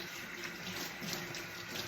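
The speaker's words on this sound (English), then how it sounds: "now let me wash my hands" Hands being washed under a running sink faucet, a soft steady rush of water that is faint and continuous, with no voices.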